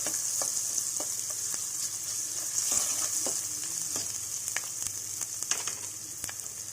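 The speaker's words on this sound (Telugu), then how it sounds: "పచ్చిమిర్చి ఇంకా కరివేపాకు వేసుకోవాలి. ఆయిల్లో గోలించుకోవాలి." Green chillies and curry leaves fry in hot oil with a continuous bright sizzle, broken by occasional sharp stirring taps and crackles, close up and with nobody speaking.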